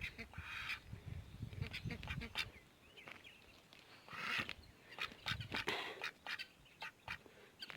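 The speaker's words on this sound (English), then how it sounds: "ducks are not the brightest bird on the lot" Ducks quacking in a noisy outdoor pen among other waterfowl and geese, with bursts of calls across the clip mixed with rustling and background commotion.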